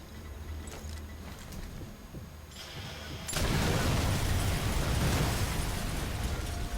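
Sniper Elite 4 gameplay has a sudden loud explosion midway that swells into a sustained roaring rumble, following a quieter stretch of game ambience.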